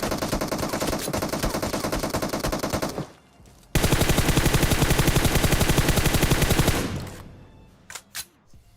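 Automatic weapon fire in the PUBG Mobile battle game: long, rapid bursts of loud, close shots, a brief pause, then another sustained burst, ending with a few scattered single shots.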